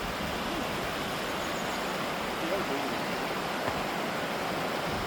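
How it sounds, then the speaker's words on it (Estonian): A mountain stream in the Tatra Mountains near Zakopane, Poland, rushes in a continuous, loud, even roar of flowing water close by, with no break across the whole stretch. "Ilus oja, vaata, kus aurab."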